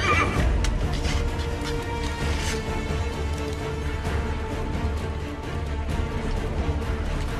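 A horse in the Xbox 360 video game Assassin's Creed 3 neighs and whinnies amid game ambience and music, with a few faint hoof clops underneath.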